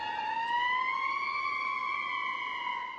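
Fire engine number 2 sounds its siren while responding, a clear wailing tone with strong harmonics that rises and holds, moderately loud and unaccompanied by talk.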